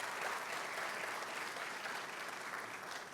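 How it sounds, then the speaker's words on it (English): Sustained applause from the audience at a Super Bowl LV kickoff event, a dense, even wash of clapping that holds steady throughout and tapers only slightly at the end. "let's give"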